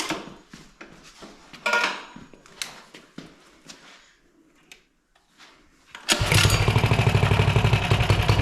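A Coleman CT100U mini bike sits quiet amid scattered knocks and clinks, then fires up after about six seconds into a loud, close engine run with a rapid ticking clatter.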